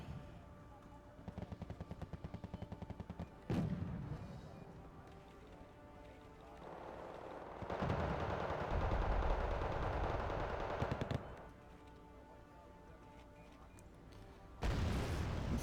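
Gunfire from an infantry fight in Wargame Red Dragon, with rapid machine-gun bursts, sharp single shots and booming impacts, moderately loud against shifting battle noise and no talk.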